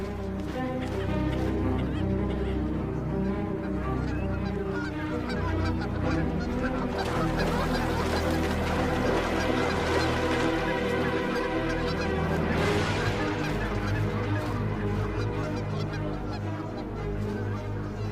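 Large flock of geese and other waterfowl gathered in autumn, a dense continuous chorus of loud overlapping honks and calls, some near and many farther off, with no voices.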